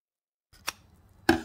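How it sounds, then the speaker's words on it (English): Scissors clip fabric curves and trim seam allowance on a small sewn pot holder: two sharp, close snips spaced under a second apart after brief silence. "First thing we want to do is clip our edges on the curve and just trim our seam allowance."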